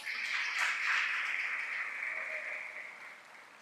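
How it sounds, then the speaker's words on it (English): Ceremony audience applause at a university recognition event, a steady wash of clapping that swells and then gradually tapers off, heard alone without voices. "Let's give her another round of applause."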